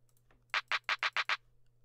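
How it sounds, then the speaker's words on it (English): A crisp, bright clap sample for a type beat hits six times in quick, even succession, dry and up front over a faint low hum. "you have to use a clapper that sounds like this"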